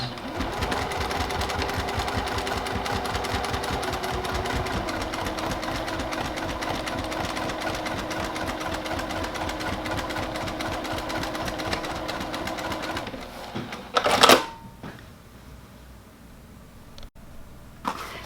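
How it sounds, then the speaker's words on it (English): Along the top edge of a fabric bag, a sewing machine top stitches in a loud, steady, close run of rapid needle thumps for about thirteen seconds, then stops, with brief handling rustles afterward. "Now I want to come back in along the very top edge of the bag and top stitch."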